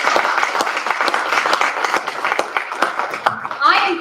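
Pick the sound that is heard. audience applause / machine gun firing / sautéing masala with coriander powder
audience applause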